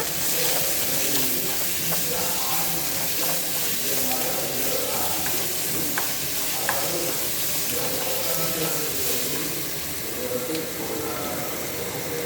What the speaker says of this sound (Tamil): நல்லா வதக்கிக்குங்க. கொஞ்சம் உப்பு போட்டுங்க.